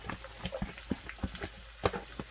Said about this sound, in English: Now I'm going to put my onion and the top of my green onions in here.